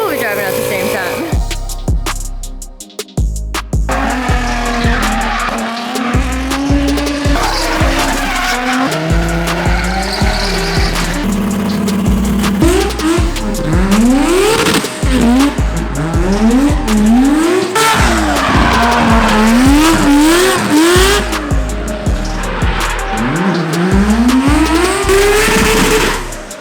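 Three-rotor Mazda RX-7 on new coilovers driving hard, with a high rotary engine wailing through repeated rising revs and gear changes, tires squealing loudly across the run, and voices faintly beneath.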